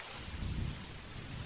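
Steady rain hisses over a low, rolling rumble of distant thunder that swells briefly and then settles back under the downpour.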